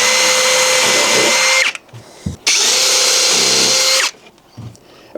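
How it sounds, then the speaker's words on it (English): Power drill boring holes through a timber window reveal during a window installation, two loud sustained bursts of whining, grinding drilling separated by brief quiet pauses with small knocks, close and unaccompanied by talk. "I'm going to go through, drill the hole, and then it's going to round out some of the timber"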